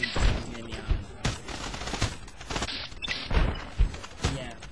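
Rapid sped-up 9mm pistol fire from Fallout: New Vegas, running together like machine-gun bursts, with repeated sharp thudding shots at an irregular quick rhythm throughout, fairly loud with no talking.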